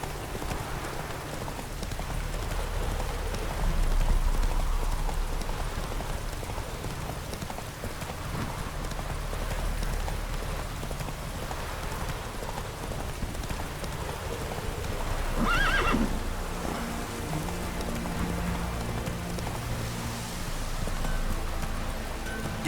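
A horse in The Witcher 3 moves along on a rainy road with steady clip-clop hoofbeats and a loud whinny partway through, over a constant backdrop of rain and ambient sound.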